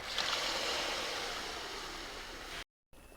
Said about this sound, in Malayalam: ഇനി ഇതിലേക്ക് ആ വേവിച്ച ബീഫ് സ്റ്റോക്കോട് കൂടി ഒഴിക്കുന്നുണ്ട്